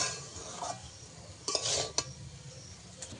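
A spoon stirs ghugni with spices in a cooking pan, with soft scraping and a few sharp metallic clinks and knocks against the pan over a quiet background.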